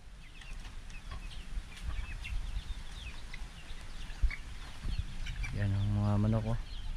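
Several chickens cluck and chirp nearby over outdoor background noise, with a short rising engine-like whine near the end.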